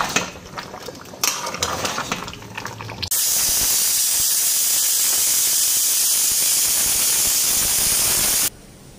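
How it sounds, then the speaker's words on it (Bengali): Loud, steady hiss of steam venting from a pressure cooker while chicken liver cooks, starting abruptly after a few seconds of clatter and stopping sharply near the end. "একটু হইলে পরে প্রেসার কুকারে সিটি দিয়ে নেব।"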